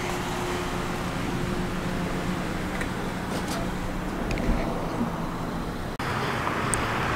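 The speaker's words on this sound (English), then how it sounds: "Just got dope cars pulling up left and right." Road traffic and cars pulling up outside, a steady broadband engine and tire rumble with passing vehicles and a faint hum, heard at moderate distance without talk.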